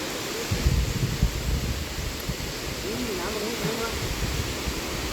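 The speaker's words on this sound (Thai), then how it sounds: "น้ำไหลก็คือ จะเป็นน้ำตกลงมาแล้วจะเป็นลำธาร" A waterfall spilling into a flowing stream at the Khlong Nam Lai falls campsite in Kamphaeng Phet, a continuous rushing roar with a few faint tonal sounds rising over it partway through.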